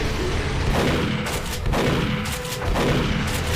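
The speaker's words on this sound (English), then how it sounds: "We're gonna need to use different shotguns." Shotgun blasts in Duke Nukem 3D, several loud booming shots in quick succession over a dense, continuous background of game noise.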